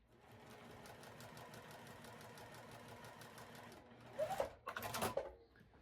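A sewing machine stitches a quilt block, its needle running in a fast, even mechanical chatter for several seconds before stopping, followed by a couple of brief rustling handling sounds of fabric.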